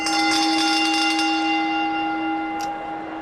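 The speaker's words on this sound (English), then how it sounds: "calls for the bell" A ring bell at a televised wrestling event rings out with a sustained metallic tone that slowly decays, loud and close, with a few quick strikes at the start and faint arena noise underneath.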